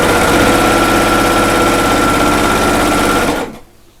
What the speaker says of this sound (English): I'm going to use my overlocker actually, because this project is perfect for that.